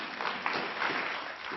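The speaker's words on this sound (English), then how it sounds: "Round of applause to all the Booker T people in the house" An audience at an author symposium claps for the Booker T. Washington students present, a brief, dense burst of applause at even strength throughout.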